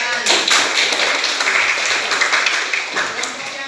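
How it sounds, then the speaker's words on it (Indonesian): Classroom applause as students clap for a group presentation, a brief burst of dense clapping from nearby hands that fades over a few seconds. "mari kita beri tepuk tangan."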